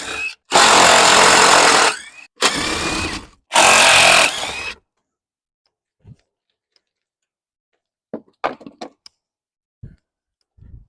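A power tool removes the factory skid plate bolts on a base Ford Bronco: three loud, close bursts of whirring impact, then near silence broken by scattered light clicks and taps.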